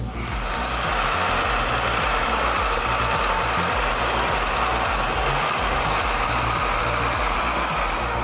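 An MTZ 122 tractor engine idles nearby in a steady, loud, low diesel rumble with a constant throb and broadband mechanical noise, continuous and without talk.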